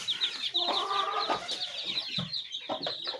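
Chicks cheep in a high, busy chorus while a Java rooster and hens cluck close by, with scattered soft flutters and bird calls throughout the short stretch.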